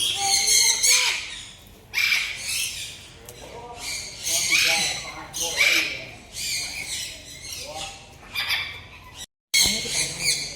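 Birds at Dumas beach give repeated loud, harsh squawking calls, several bursts in a row, close by and fairly bright.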